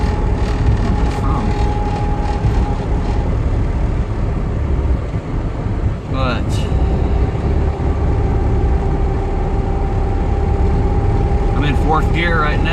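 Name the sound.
Toyota AE86 driving in 4th gear at about 45 mph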